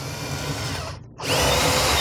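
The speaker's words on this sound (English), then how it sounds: "Drill my hole through, I can run my wires." A power drill whines loudly and steadily, pauses briefly as the bit cuts through, then resumes at a higher, harsher pitch, drilling a wiring hole on a boat for LED lights.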